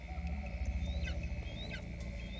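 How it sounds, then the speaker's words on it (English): Faint, thin chirps from a juvenile bird hunted by a caracal in mountain country at night, a few brief rising calls sitting over a steady low musical drone. "The faint chirping means the juvenile hasn't moved."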